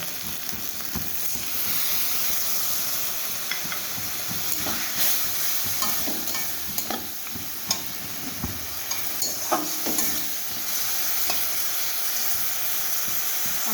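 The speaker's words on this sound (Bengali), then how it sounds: "এবারে আমি মিশিয়ে রাখা মশলার পেস্টটাকে দিয়ে দেবো" Spice paste frying with potatoes and tomatoes in a pan for an okra and potato dish, a steady loud sizzle and hiss with repeated scraping strokes of a spatula stirring close by.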